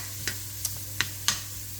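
Carrots fry gently in a pan under a low, steady sizzle, while a utensil scrapes and taps four times at an even rhythm as they are stirred.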